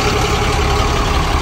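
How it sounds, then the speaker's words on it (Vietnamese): A Cummins diesel engine in a Dongfeng B180 9-ton truck idles with a deep, steady, even rumble, loud and close, running alone without any voices. "đây là cái tiếng động cơ Cummins nha, nghe rất là uy lực luôn nha quý vị"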